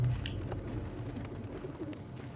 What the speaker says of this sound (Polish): Gołębie? Dobrze słyszałem?